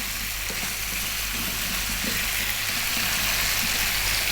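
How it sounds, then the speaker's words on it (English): Beef and potatoes fry with spices in a pan, giving a loud, continuous sizzle with faint scraping from stirring and a low steady hum underneath, no voices. "we're going to go 3 or 4 minutes getting those potatoes and the meat mixed together"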